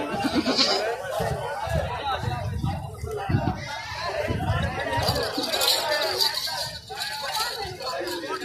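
A tall goat bleats several times at a busy livestock market, mixed in among the calls of other animals and the chatter of people nearby.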